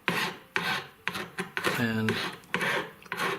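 A sanding stick rasps against a freshly soldered joint on a wire scribble ring, giving repeated short scratchy strokes in an even rhythm, close and fairly loud, with a brief spoken word in between.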